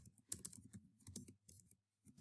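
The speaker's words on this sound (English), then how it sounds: "Having a nightmare with this typing." Quiet, irregular clicking of keys on a computer keyboard, with short bursts of typing broken by brief pauses.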